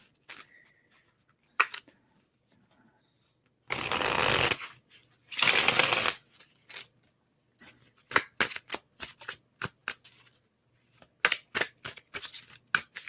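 A White Numen tarot deck with gilded edges is riffled and shuffled by hand, two long bursts of riffling and then a run of quick, sharp card slaps and taps separated by quiet gaps.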